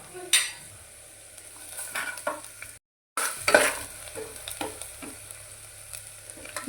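Chili powder and coriander frying in oil for sambar crackle with a close sizzle, while a spoon stirs with scraping clinks against the pan, broken by one brief silent gap.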